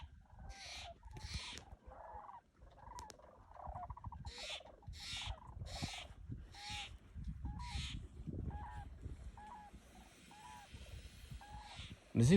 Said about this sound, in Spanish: No sé si escucharon algo, pero hay tremenda migración de pájaros.